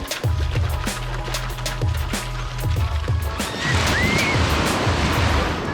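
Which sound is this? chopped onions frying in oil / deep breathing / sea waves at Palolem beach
sea waves at Palolem beach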